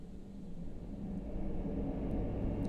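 A low, steady synthesized drone from the Albion 1 instrument hums continuously, dark and rumbling, swelling slightly in loudness as it sustains.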